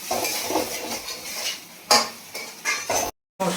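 Chilli powder and salt are stirred into a pan, a spoon scraping and clattering against the metal in uneven strokes, with a faint sizzle beneath and a brief silent gap near the end.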